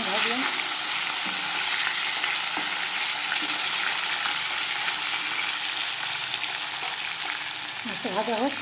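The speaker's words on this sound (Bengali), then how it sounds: "মাছ ভাজা বসিয়ে দিলাম, 3 পিস মাছ ভাজলাম।" Three pieces of fish frying in a pan at home, a steady close sizzle of hot oil with occasional stirring and clinks, voices faintly in the background near the end.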